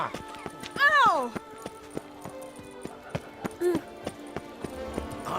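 Roach, a horse in The Witcher 3 video game, galloping with a steady rhythmic beat of hooves under a loud whinny early on, while a voice speaks over the running.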